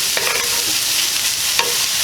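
Pork sausage and onion frying for a gnocchi bake, a loud close sizzle with a spoon stirring and scraping through the pan, no voices.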